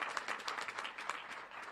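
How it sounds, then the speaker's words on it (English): Audience applause for President Scott X at a live news event, a soft, continuous patter of many hands clapping, heard faintly and at a distance. "Y'all, please give him a big round of applause to let him know that we appreciate his leadership now more than ever"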